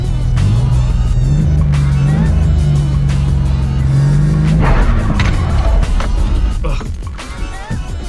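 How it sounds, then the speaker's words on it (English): A truck engine revs hard and steadily for several seconds during a burnout attempt, loud and close, then drops off abruptly into rough sputtering and clattering noise. "So we're gonna figure out if this thing will do a proper burnout."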